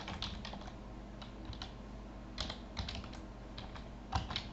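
Keys clatter on a computer keyboard while someone types text into an Excel chart, quick bursts of light clicks with short pauses between, quiet and close.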